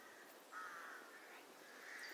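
Crows caw faintly and at a distance in a quiet wooded area near Thornton-le-Dale, with a couple of brief calls rising over soft, steady background hush.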